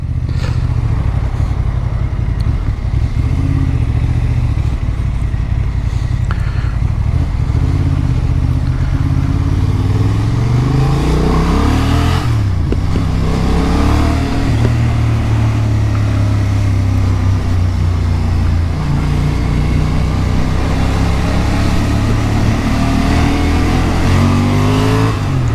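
A 2023 Honda Hornet 750 motorcycle engine in A2 restricted version revs and accelerates through rising and falling gear pitches, loud and close, continuous throughout.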